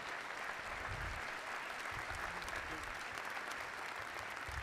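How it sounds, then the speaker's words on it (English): Sustained audience applause for a university president during a mayor's State of the District address, a steady wash of many hands clapping at a moderate distance in a large hall, with no talk over it. "Give him a big round of applause."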